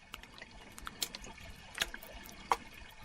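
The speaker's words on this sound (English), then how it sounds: "There's something about the sounds of water." Faint, quiet water trickling and dripping, scattered small splashes and drips over a soft background, with a few louder drops standing out.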